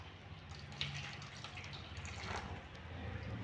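Hot water pours into a flour dough for oil-fried pitha, a faint continuous watery hiss with slight dripping, close and quiet, with no voices.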